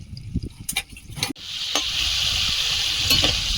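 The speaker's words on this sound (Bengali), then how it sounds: "একটু সময় নিয়ে আলুটা ভেজে নেব" Potatoes seasoned with salt and turmeric sizzle and hiss steadily in a hot frying pan for a chicken dish, nearby, with a few scraping stirs and clatters early on and no talking.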